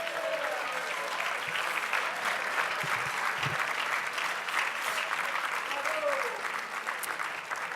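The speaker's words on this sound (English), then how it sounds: "please stand so we can give a round of applause to the board of directors of MALDEF" Sustained applause fills a Washington D.C. gala hall as the audience honors a civil rights organization's board of directors, with a thick, even wash of many hands clapping for nearly eight seconds.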